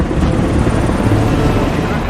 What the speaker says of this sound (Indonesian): helikopter sudah berada tepat di atasnya